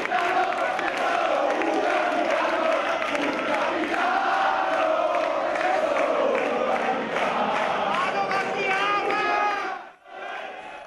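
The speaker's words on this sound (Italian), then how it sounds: "Folla di tifosi che ha atteso pazientemente il suo beniamino per poi salutarlo con..." A large crowd of football fans in Padova greets Alessandro Del Piero with sustained chanting and cheering. The roar stays loud and steady, then drops briefly near the end before rising again.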